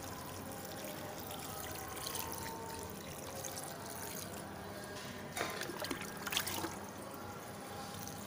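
Water poured into a planting bag of freshly set turmeric rhizomes, a steady low trickle and splash running throughout with a brief louder gush midway.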